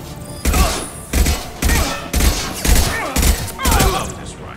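Rifle fire in Mass Effect 2, a modded playthrough: seven heavy, booming shots spaced about half a second apart, each with a deep thump and a short ringing tail, loud and close.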